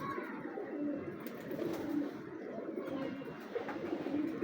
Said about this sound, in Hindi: बाजी मेकर बड़ा तगड़ा कबूतर है